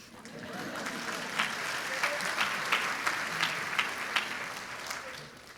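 A crowd at a college commencement applauds and cheers with sustained clapping. Sharper bursts of whoops rise at intervals, and voices mix into the steady din.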